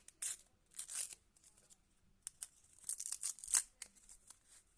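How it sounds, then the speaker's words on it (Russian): Paper surprise packets are torn open by hand, with quick crisp ripping and crinkling bursts in several separate spurts, close and fairly quiet, with no talking. "Ось наш пакетик. Розпаковуємо."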